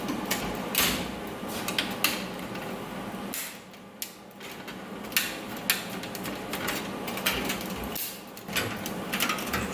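Welded sheet metal pieces being pried apart by hand, irregular metallic creaks, scrapes and small clanks with sharp clicks scattered through, fairly close but quiet, with a short lull midway.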